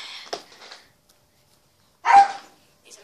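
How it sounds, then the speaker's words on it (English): Dogs of a household pack barking indoors: a couple of short, sharp barks separated by a quiet gap, fairly close and loud. "These are my dogs."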